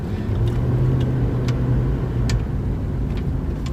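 A pickup truck engine hums low and steady as it moves slowly, with faint knocks and clicks of loose items rattling in the truck now and then.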